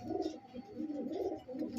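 A breeding pair of pigeons coo softly and repeatedly nearby, low throaty calls in an uneven rhythm.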